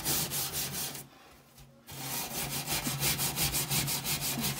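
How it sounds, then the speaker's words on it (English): A stovetop scrubbed by hand with quick, rhythmic back-and-forth rubbing strokes, close and steady, pausing briefly in the middle before resuming at the same brisk pace. "Just scrub it."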